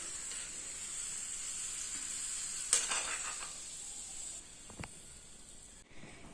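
Raisins fry in ghee in a pan for fried chicken biriyani, a steady high hiss and sizzle with a sharp clatter partway through and a couple of faint stirring knocks, fairly quiet.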